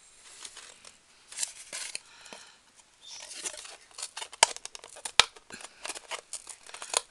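Scissors snip a small notch into fabric or paper: a series of short, crisp cutting crunches at close range, spaced irregularly, with two sharper snaps near the end and no talk.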